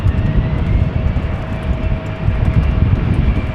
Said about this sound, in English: Turkish Airlines, flight 451 off to Zagreb, A319.